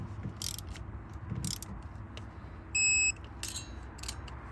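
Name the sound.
torque wrench beeping at set torque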